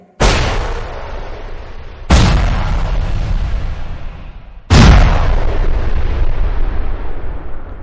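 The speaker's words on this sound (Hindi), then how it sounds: "भगत सिंह और बटुकेश्वर दत्त विधानसभा में बम विस्फोट करते हैं।" Three loud, heavy bomb blasts go off one after another, each followed by a long rumbling roar that slowly fades.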